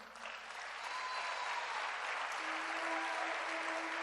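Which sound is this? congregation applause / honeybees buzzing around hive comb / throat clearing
congregation applause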